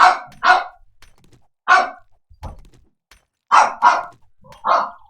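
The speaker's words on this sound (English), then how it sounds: "that's my dog going crazy downstairs." A dog barks repeatedly from downstairs, sharp barks coming in quick pairs and singles with short gaps between bursts, plus a dull thunk in the middle.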